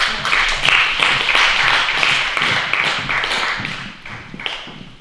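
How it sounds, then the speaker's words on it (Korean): Concert audience in a hall clapping steadily for the arrival of professors before a flute performance of Franck's Panis Angelicus, a dense continuous patter of many hands at moderate loudness for the whole stretch. "우리 크게 박수로."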